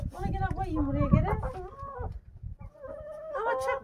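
Hen clucking on a farm with an egg just laid, short throaty calls mixed with steady nearby speech that runs through most of the moment.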